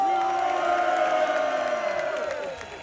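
A large crowd at a London march cheers, whooping and shouting together in a loud, sustained roar that slowly fades.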